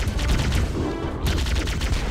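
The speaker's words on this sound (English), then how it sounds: "Plasma pistol spamming!" Rapid bursts of plasma pistol fire from Halo: Combat Evolved, loud and continuous, with a brief dip in the middle of the barrage.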